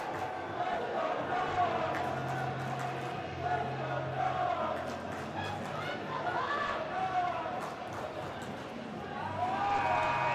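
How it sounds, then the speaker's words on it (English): Hockey arena crowd roaring steadily through the final seconds of a close college game, Eastern Washington against UW, with a dense wash of cheering and shouts and occasional sharp knocks. "The crowd is riled up."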